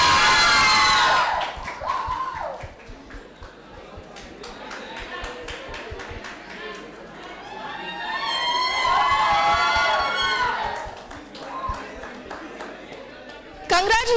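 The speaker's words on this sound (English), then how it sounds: "A huge round of applause for our winners." Award-ceremony crowd at a summit cheering and shouting for prize winners, loud bursts of cheers and whoops rising and falling with voices mixed in, ending on a sudden loud burst.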